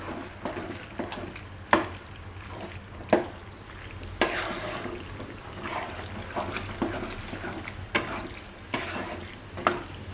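Pasta being stirred into a gravy in a pan, soft repeated scraping and stirring strokes with light sizzling underneath, close and fairly quiet, no talk.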